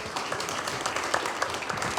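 Steady applause from a conference audience at a small producers launch event as a presenter takes the stage, even clapping throughout with faint voices beneath.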